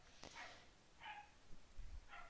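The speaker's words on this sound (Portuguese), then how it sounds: "cachorro do demônio, velho." A dog barks in short, sharp yips, three distinct barks spaced about a second apart, moderately near and not very loud, with a faint low thump under the last one.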